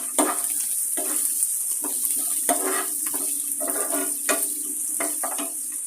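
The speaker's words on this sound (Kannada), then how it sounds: "ನೋಡಿ ಈ ಹಂತದಲ್ಲಿ ನಾನು ಸ್ವಲ್ಪ ಫ್ರೈ ಆಗೋವರೆಗೂ ಮಾಡೋಣ ಈರುಳ್ಳಿ ಫ್ರೈ ಆಗಬೇಕು" Chopped onions for poha sizzle steadily in a hot pan with oil, a continuous frying hiss broken by repeated scrapes and clinks of a spoon stirring them, close and clear with no talking.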